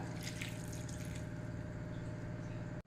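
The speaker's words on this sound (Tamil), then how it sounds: "இதுக்கு ஒரு அரை டம்ளர் தண்ணி சேர்த்திக்கலாம்" Water pours in a continuous, close, steady stream onto freshly cut tubers in a kitchen, about half a tumbler's worth, ending abruptly near the close.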